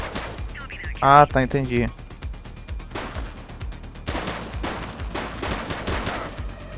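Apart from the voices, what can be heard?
gunfire in video game The Precinct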